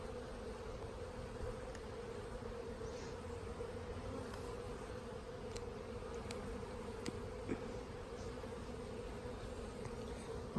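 Honeybees buzz steadily around an open nucleus hive outdoors, a dense continuous hum of many wings with occasional louder passes close by, no talking.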